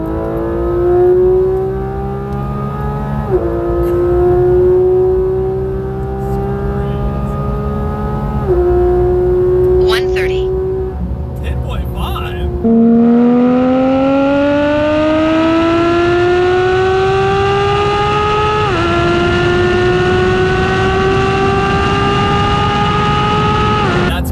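A Porsche GT3 RS with a ported throttle body and intake accelerates hard from 60 mph, its engine rising in pitch through each gear, with brief pauses at the shifts, loud and close from inside the car, with no talking.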